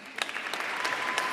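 Applause for graduating seniors of the Environmental Resources Engineering program at a SUNY ESF December commencement, a dense steady clapping from a large audience throughout.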